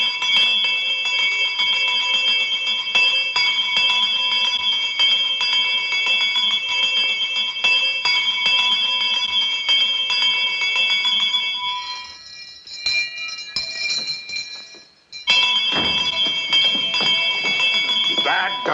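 A bell rung over and over, its bright metallic tones layered and sustained like an alarm. It carries on steadily for most of the stretch, breaks off briefly and then starts again, with some talk mixed in.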